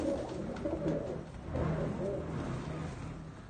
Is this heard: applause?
no